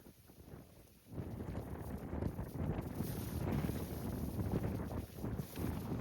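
Strong wind buffets the microphone on a mountain trek at Lingacha Dongar, a dull roaring rush that rises after a quieter first second and stays loud and gusty throughout.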